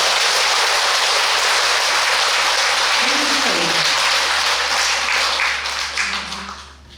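Audience applause at a Buddhist temple dharma talk, a loud, dense wash of clapping, with a low steady hum underneath, fading toward the end.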